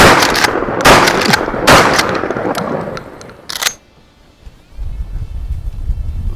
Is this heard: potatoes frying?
no